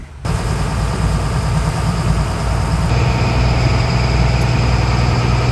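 A boat engine drones with a low, steady throb and vibration that continues evenly from start to finish, loud and close, without speech, on a boat heading out in Malta.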